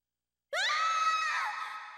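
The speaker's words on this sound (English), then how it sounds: "That was such a good scream." A sustained, high-pitched scream from the video game Xenogears rises sharply and holds for about a second and a half before tapering, loud and isolated with no talk.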